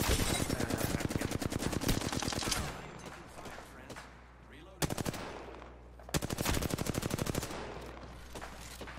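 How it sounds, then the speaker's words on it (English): Automatic gunfire in the video game Apex Legends, long rapid bursts of loud close shots broken by short pauses, with further bursts later and a voice talking briefly in between. "Getting shot at"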